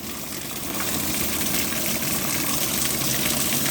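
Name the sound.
rain water pouring out of a gutter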